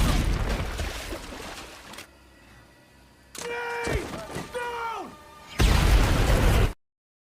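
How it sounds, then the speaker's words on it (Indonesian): A grenade blast in an action film on a brutal island bursts out as a loud, broad roar near the end, following a quieter stretch with tonal whooshes and swept effects. "sebuah granat dilontarkan tepat di hadapan mereka"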